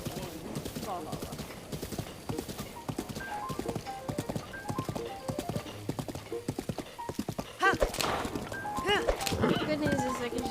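Horse hooves clip-clop steadily in the video game Breath of the Wild, a continuous rhythmic trot heard beneath someone talking throughout, with a brief louder stretch near the end.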